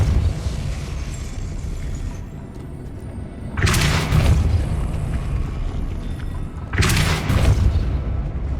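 Depulso spell cast twice in Hogwarts Legacy on PS5, each a sudden loud broadband burst like a magical blast, about three seconds apart, over a steady ambient game background.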